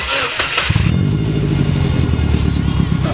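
Subaru WRX with a catback exhaust and open downpipe starting up: a brief starter whir, then the engine catches with a sharp bark and settles into a loud, burbling, lumpy idle close by.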